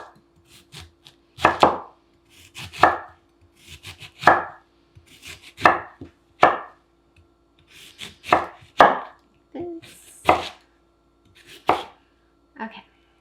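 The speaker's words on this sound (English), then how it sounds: "We're going to cut it in half. That. And then we're just going to cut it in slices." A kitchen knife slices a vegetable on a cutting board, cut in half and then into slices, giving about a dozen crisp, close knocks in a loose, steady rhythm with short pauses between cuts.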